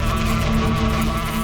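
Bees swarming around a beehive make a dense, continuous droning buzz that stays loud and even across the short stretch, with no other sounds.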